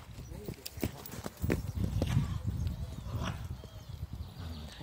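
Horse hooves clopping on an arena surface during a group dressage lesson, a loose run of soft thuds spread through the clip under an instructor's voice and ambient noise.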